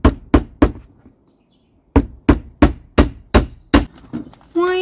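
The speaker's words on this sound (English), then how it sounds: "Why are you using a hatchet as a hammer?" A hatchet used as a hammer drives panel pins into black roofing material on a chicken house. It gives sharp, close wooden knocks: three quick strikes, a pause, then a steady run of six more.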